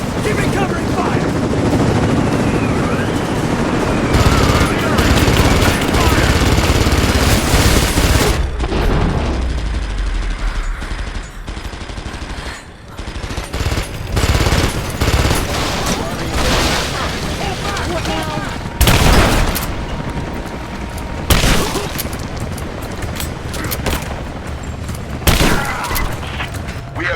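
Covering gunfire in Rise of the Tomb Raider: sustained, loud bursts of automatic shots with mechanical clatter, thinning into scattered sharp reports and booms, while voices call out over the fighting.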